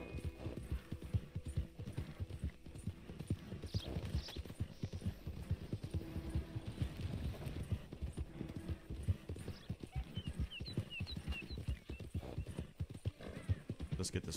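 Steady clip-clop of horse hooves with a faint whinny partway through, under soft talk, in the video game Red Dead Redemption 2 on PS5.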